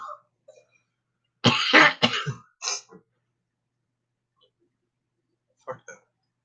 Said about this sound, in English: I decide when I want to cough